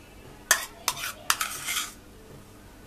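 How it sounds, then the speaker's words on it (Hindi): A spoon clinks and scrapes in a bowl while sandwich filling with mayonnaise and black pepper is mixed, with several sharp close taps followed by softer scraping, then quiet. "इन सबको हम अच्छे से मिक्स कर लेंगे।"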